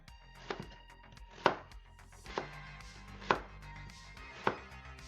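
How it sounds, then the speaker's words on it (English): Knife cutting through a potato and striking a chopping board, five sharp knocks at roughly one-second intervals, close and clear with no talk. "I was trying to cut through the chopping board, thinking I hadn't gone all the way through the potato."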